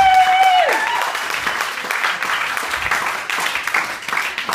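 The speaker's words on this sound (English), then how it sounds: "Give them a round of applause" Audience at a hypnosis show in a rugby club applauds in a sustained, fairly loud wash of clapping, with a sliding tone at the start and faint voices underneath.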